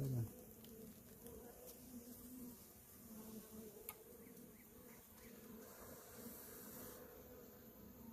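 Honeybees buzz in and around a hive during a pest-management inspection, a steady close drone with faint passing buzzes, low in level, with no clear talk.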